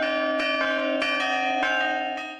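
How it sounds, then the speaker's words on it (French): Church bells ring steadily in a rich, resonant peal, several overlapping strikes blending into a sustained metallic hum, loud and close with no voices. "Elle n'hésite donc pas à faire sonner les cloches pour rappeler les règles du savoir-vivre"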